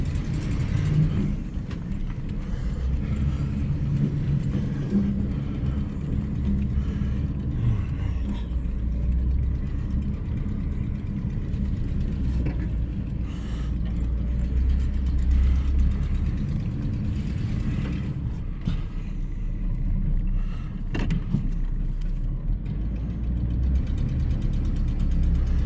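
A 1983 Chevy Silverado square-body pickup with a 305 V8 and four-wheel drive plows through mud, its steady low engine rumble loud and continuous throughout with rough mechanical rattles.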